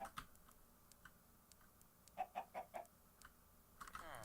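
Minecraft chickens give a quick run of soft, blocky clucks, four short calls in a row with a few scattered ticks around them, faint against a quiet game background.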